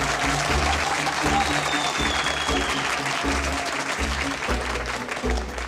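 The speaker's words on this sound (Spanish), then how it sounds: "va este aplauso para ustedes" A steady burst of applause honoring teachers fills the space, with a rhythmic low musical beat pulsing beneath the clapping the whole way through.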